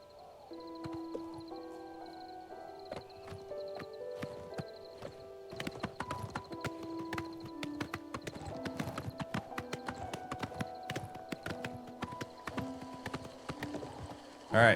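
Horse hooves clip-clop steadily in the Oblivion video game, a continuous rhythmic trot of many close, sharp hoof strikes over game ambience, with a louder burst at the very end.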